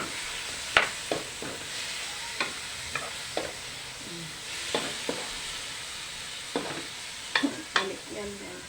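Chicken sautéing in a pan for Filipino sotanghon guisado, a low background sizzle broken by sharp intermittent clacks and scrapes of a utensil stirring, close and fairly quiet.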